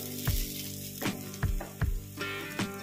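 Spices for Chettinad brinjal kuzhambu fry lightly in a pan with a steady low sizzle, broken by several soft, rhythmic stirring knocks against the pan, over a constant background hum.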